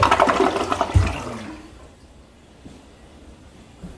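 A toilet flush rushes and gurgles at close range, then quickly fades to a quiet trickle and near silence.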